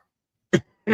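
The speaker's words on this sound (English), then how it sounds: "A little bit of cough going on today." Two sharp, close coughs separated by a short silence, the second rougher and longer than the first.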